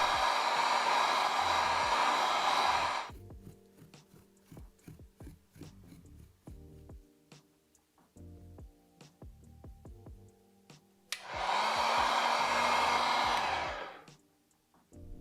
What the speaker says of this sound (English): I painted on light coats and used the heat gun to speed up the process.